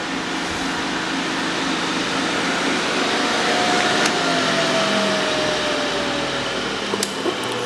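An SCMI T110i sliding and tilting 9 hp spindle shaper with a four-roll power feed runs at idle, a steady, fairly quiet motor whir and airy hum with a faint rising tone near the middle.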